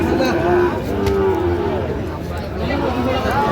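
A bull calf moos several drawn-out times at a busy cattle market, loud and close, over a background of crowd chatter and people talking.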